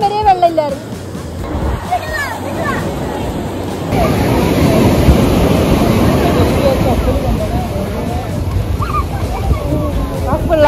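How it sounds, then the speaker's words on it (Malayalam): Sea waves surge and break on a beach shore, a steady broad wash that swells louder partway through, with wind buffeting the microphone and people chatting nearby. "തിരമാല വരുന്നുണ്ട്."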